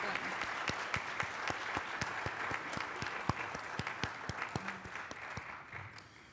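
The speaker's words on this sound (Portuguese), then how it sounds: "peço palmas aqui à doutora Laúza" A seminar audience on international child abduction applauds a panelist, dense steady clapping from many hands that carries on evenly for several seconds before thinning out at the end.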